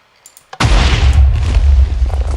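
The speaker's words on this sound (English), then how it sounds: "we now have a functional TNT cannon" A TNT cannon detonating in Minecraft, a few soft clicks followed by one sudden loud deep boom whose heavy rumble lingers for about two seconds.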